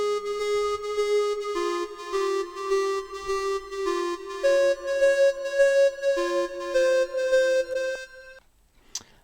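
A modular synth line run through delay, comb EQ and a channel strip plays a steady sequence of sustained pitched tones, loud and close with no talk, ending in a brief faint tail.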